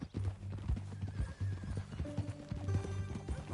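Horse hooves clip-clopping in a steady rhythm from Red Dead Redemption 2, with a whinny partway through over a game music bed.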